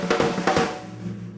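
A drum kit single stroke roll played with accents on the snare, a quick run of even strokes with louder accented hits standing out, close and fairly quiet, fading into ringing decay.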